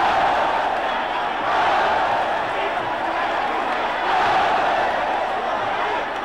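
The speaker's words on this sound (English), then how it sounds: "And the crowd hysterical." A large crowd at a Muay Thai fight roars and cheers wildly in a sustained wall of noise that swells twice, with no clear individual voices on top.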